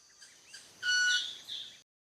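A club-winged manakin produces a high, tonal buzzing tune with its wings, a sustained bright whine near in the middle of the clip with softer notes before and after, no talk.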